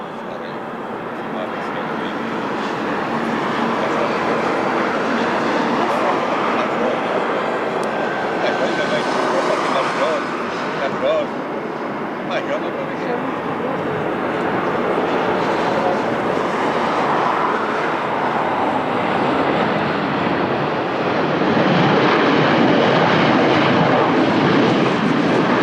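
Azores Airlines airliner in natural livery at Lisbon Airport, a loud continuous jet engine rumble that rises and falls across the stretch, with people talking over it.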